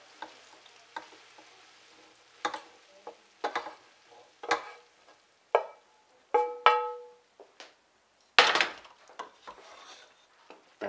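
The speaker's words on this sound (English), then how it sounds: "And now we're just going to mix it all together. Stir it up pretty good." Meat being stirred into vegetables in a pan for Spanish rice, giving a run of scraping, scuffing strokes, a few sharp clanks and a soft sizzle underneath, near and alone with no talk.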